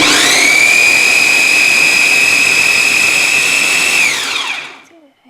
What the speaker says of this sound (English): So we're just going to put this on and blend it